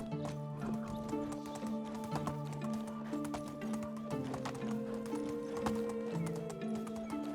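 Donkey hooves clip-clop steadily in the video game Medieval Dynasty, a continuous trotting rhythm over a bed of game music, with a brief whinny-like call partway through.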